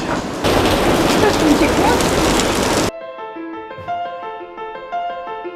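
Steady rain falls on cyclists riding along the Danube, a dense broadband hiss for about three seconds before it cuts off, followed by a brief melodic musical passage.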